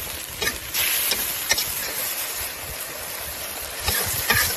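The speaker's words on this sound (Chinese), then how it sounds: "然后把西红柿和青椒倒进来，炒好调个味" Tomatoes and green peppers stir-fry in hot oil with garlic and chilies, a steady sizzle with scraping stir strokes and a few louder clatters near the end, close and continuous with no talking.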